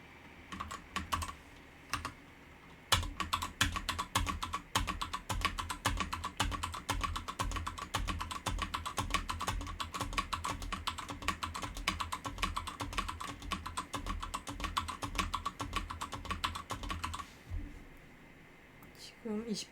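A computer keyboard clatters with rapid, dense keystrokes during repeated Ctrl+C and Ctrl+V presses, running nearly nonstop for about fifteen seconds before stopping abruptly.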